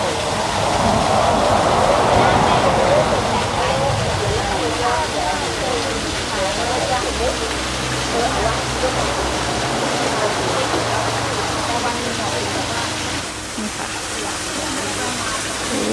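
Steady broadband rush of water flowing at a waterfall beside a noodle shop, continuous and fairly loud, with faint background voices and a low hum mixed in.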